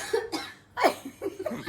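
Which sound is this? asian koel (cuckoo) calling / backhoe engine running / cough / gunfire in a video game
cough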